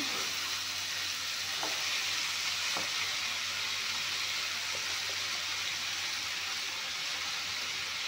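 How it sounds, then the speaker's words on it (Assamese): Food fries in a pan, most likely onions with salt, giving an even, continuous hiss and sizzle up close, with a few faint stirring taps. "এইখিনি ভালকৈ নিমখ দি 5 মিনিটমান ভাজি ল'ম"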